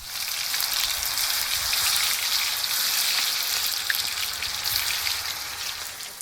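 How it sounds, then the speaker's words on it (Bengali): Bombay duck (loitta) fish balls fry in a pan outdoors by a riverbank in a village setting, giving a dense, steady sizzle and crackle with occasional pops, close and unbroken, no talk. "খুব সুন্দর ভাজা হচ্ছে, আর একটু লাল লাল হবে।"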